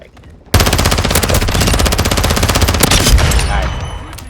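Rapid automatic gunfire from a video game played on an RTX 3080 laptop: a dense, fast stream of shots that starts abruptly and runs for several seconds at close, loud level before tapering slightly.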